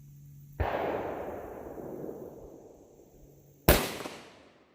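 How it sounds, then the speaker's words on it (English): Two rifle shots fired at a long-range target, each a sharp, loud crack followed by a long rolling echo that fades over several seconds, the second shot about three seconds after the first. "Now let's shoot this target."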